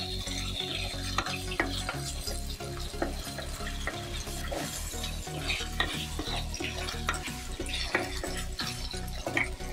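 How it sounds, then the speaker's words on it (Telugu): Chicken pieces fry in hot oil in a pan while being stirred, giving a dense steady sizzle punctuated by repeated scraping and clattering stirs close by. "ఆయిల్ బాగా వేడైన తర్వాత కలుపుకున్న చికెన్ ముక్కలు వేసుకోవాలి."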